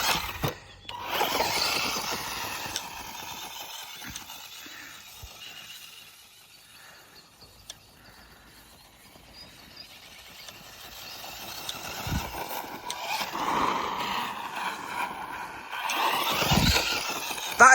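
A Tamiya Manta Ray RC car runs indoors at full throttle, its electric motor whining and rising in waves as it passes near and away, with quieter gaps between runs and sharp tyre squeals.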